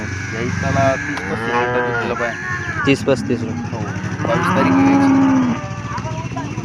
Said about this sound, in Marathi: एकदम चांगल्या प्रतीची गाय आहे